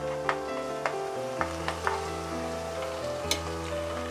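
Eight long-cut green chilies and onion stir-fry in a pan, giving a continuous sizzle with scattered light clicks from the stirring spoon.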